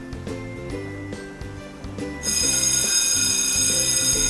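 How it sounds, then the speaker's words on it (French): A school bell rings at the end of the school day, a bright, sustained metallic ringing that starts suddenly partway through and holds steady over a soft rhythmic musical backing. "La sonnerie de l'école retentit."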